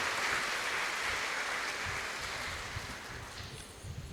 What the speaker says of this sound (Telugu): మీ అందరికీ పండుగ శుభాకాంక్షలు తెలియజేస్తుండగా గట్టిగా చప్పట్లు కొట్టుకోండి అందరు